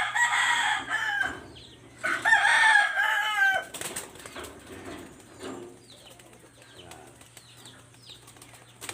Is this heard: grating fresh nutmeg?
no